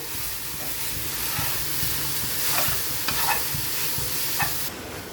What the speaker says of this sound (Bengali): মোচা রান্নাটাও হয়ে আসছে